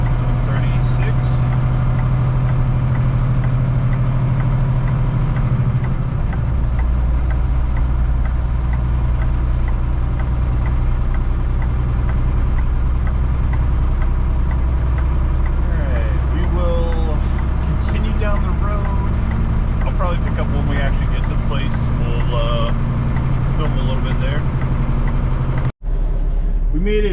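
A heavy truck's engine labors up a steep grade in Boston traffic at about 36 mph, a steady low rumbling drone running the whole time with brief cab sounds near the end.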